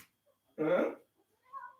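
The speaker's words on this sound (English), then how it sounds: "Kitty, want to come and say hi to Miss Worm" A cat gives one short, close meow at home, followed by a fainter, higher little squeak in an otherwise quiet room.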